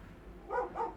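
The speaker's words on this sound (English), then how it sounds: "sorry if you can hear Doglet barking outside" A dog barks twice outside, a pair of quick, muffled barks heard at some distance through a wall, with no talking.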